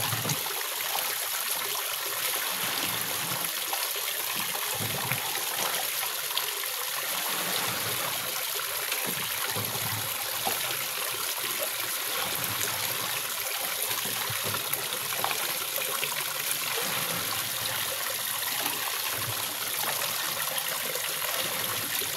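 Rainwater stream flowing outdoors, a steady broadband rush and trickle that runs continuously and fairly close, with no voices over it.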